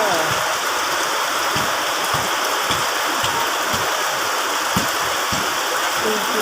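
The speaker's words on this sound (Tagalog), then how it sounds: "Ayan po siya, umuulan siya guys." Steady rain pours down with a dense, even hiss, and heavier drips land nearby at irregular intervals.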